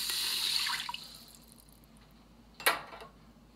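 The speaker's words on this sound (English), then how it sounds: "I'm gonna put 1 cup of water in." Water from a one-cup measure poured into an Instant Pot set to sauté on high, a brief splashy gush at the start trailing off, then a quick sharp clatter, all fairly quiet and with no talking.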